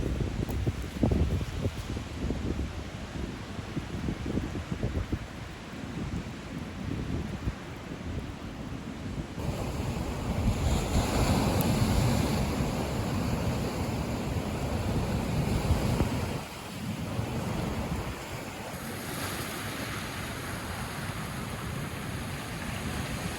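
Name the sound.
ocean waves on a remote beach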